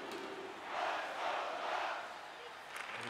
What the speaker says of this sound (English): this crowd's still in a bit of a frenzy after what we just witnessed moments ago